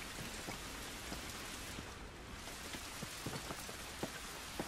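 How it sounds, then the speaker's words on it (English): Steady rain pours across surfaces in The Last of Us, a dense continuous hiss dotted with sharper drop ticks and small splashes, heard alone with no voices. "This rain ain't gonna do us any good."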